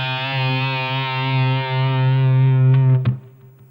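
A heavily distorted electric guitar holds a sustained chord from a song, ringing loud and steady before a short pinched squeal and an abrupt cutoff.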